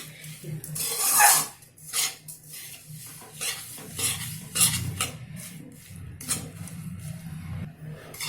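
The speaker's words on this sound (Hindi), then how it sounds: "इसे ध्यान से चलाते रहेंगे।" Sugar melting in a pan for semolina and milk halwa, stirred with a spoon that scrapes and clinks against the metal in uneven strokes, over a light sizzle, close up and with no voices.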